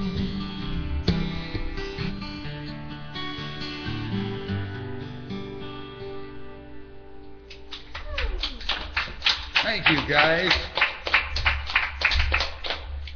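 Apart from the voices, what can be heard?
applause from studio audience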